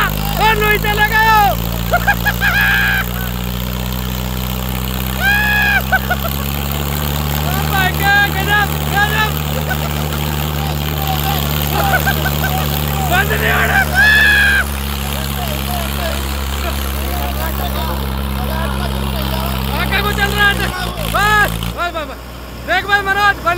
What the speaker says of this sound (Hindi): देख भाई मनोज बंद नहीं हुआ बंद नहीं हुआ ट्रैक्टर